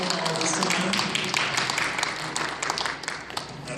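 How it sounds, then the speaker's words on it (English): A crowd claps at the close of a council member's district address, a broad, steady round of applause from many hands that fills the room and tapers slightly near the end. "give yourselves a round of applause for coming down here and listening to me talk all this time"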